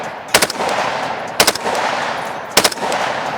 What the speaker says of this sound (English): Okay, so you can see you can do some bump firing, kind of from the shoulder.